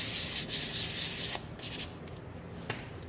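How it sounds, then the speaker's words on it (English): Hand sanding of a snowman gnome craft piece: close, dry rubbing strokes in quick bursts, then a pause and a few lighter scrapes. "So give this a sand."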